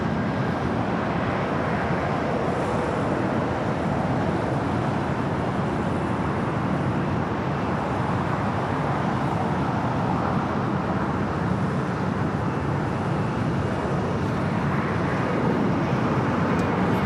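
A United Airbus A321neo jet takes off at LAX, a steady broadband engine roar heard from a distance, constant and unbroken throughout.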